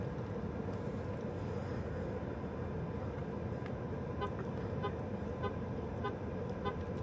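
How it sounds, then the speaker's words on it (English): A car horn toots off in the distance outside a Sonic drive-in, faint repeated short honks poking through a steady wash of low traffic and ambient noise, with no voices. "I don't know whose vehicle that was honking"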